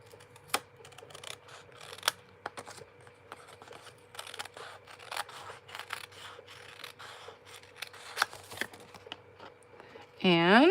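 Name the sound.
fussy cutting paper with scissors for card making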